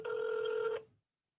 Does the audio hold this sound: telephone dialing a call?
yes